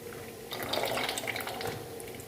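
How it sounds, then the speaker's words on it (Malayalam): A soft pour of thick ragi batter into a bowl, a brief gentle splashing stream lasting a couple of seconds, close by. "നമുക്കൊരു പാത്രത്തിലേക്ക് ഒഴിക്കാം"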